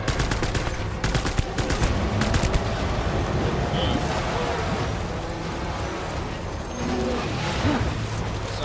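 Rifle gunfire in the video game Death Stranding, rapid bursts of shots early on, then a steady dense game soundscape with some voice underneath.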